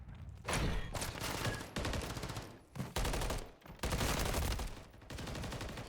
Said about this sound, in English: Excellent shots by Team Bravo right there.